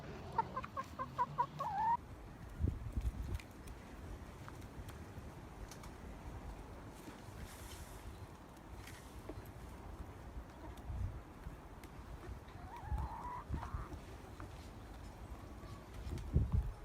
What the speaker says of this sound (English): our chickens, and it's quite fun to watch them walking around, pecking here and there and everywhere.